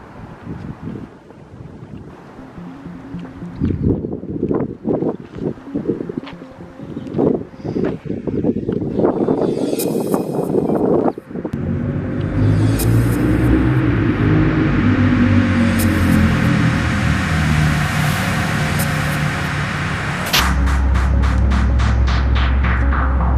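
Tiny 3D-printed motorboat running its propeller, a steady buzzing, rising motor whine with churning water over wind noise, close and loud, building after a few seconds of clattering and holding to the end.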